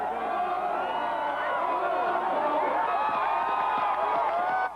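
Celebrating football fans packed onto State Street in Madison produce a dense, steady roar of cheering and shouting voices, loud and sustained throughout before cutting off abruptly.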